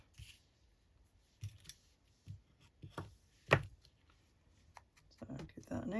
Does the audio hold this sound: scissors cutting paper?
yes